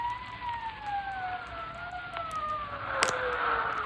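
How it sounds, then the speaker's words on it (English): A wailing police siren in an old-time radio detective drama: two steady tones gliding slowly downward, at moderate level over a soft background hiss, with a brief thud near the end. "Sirens. Can't you hear them?"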